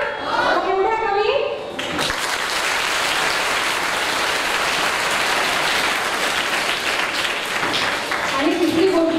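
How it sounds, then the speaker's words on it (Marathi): A crowd of children applauds for their teachers at a storytelling event, a dense burst of clapping that swells and holds, with a voice heard briefly before it. "कुणासाठी टाळ्या?"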